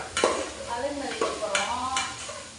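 Food sautéing in a pan with a steady sizzle, broken by a few distinct scraping stirs of a spoon against the pan, close and moderately loud.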